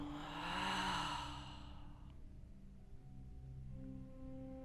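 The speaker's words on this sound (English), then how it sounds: "Deep breath in. And exhale." A single long, deep exhale during a yoga session, breathy and close, swelling in the first second and then fading out, followed by a low steady background hum.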